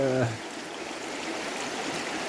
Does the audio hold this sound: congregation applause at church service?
no